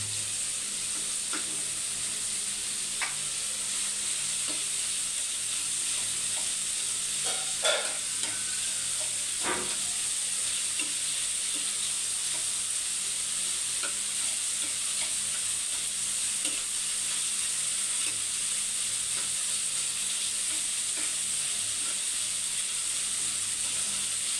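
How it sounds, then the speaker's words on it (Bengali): Steady sizzling of fish frying in a pan, with occasional scrapes and clinks of a spatula stirring, continuing evenly throughout. "নাড়াচাড়া করে ভাজা ভাজা করে নেবেন"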